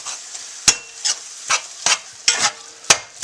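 A spoon works through beef stew for carne guisado in a pot, a series of about eight sharp scraping knocks against the metal at an uneven rhythm over a faint sizzle.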